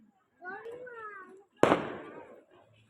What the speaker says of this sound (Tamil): அது அப்படியே மேலே வந்து வெடிக்கும்